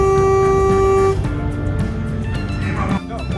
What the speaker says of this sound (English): As we started to pull out, I thought I'd give them a little honk.